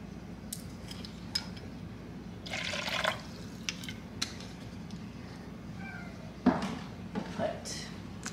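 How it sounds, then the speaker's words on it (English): White vinegar and then red wine vinegar are poured into a bowl already holding olive oil, making two soft, brief liquid splashing runs with light clinks over a quiet kitchen background hum. "Now I'm gonna put white vinegar. Good amount of that. Put some red wine vinegar."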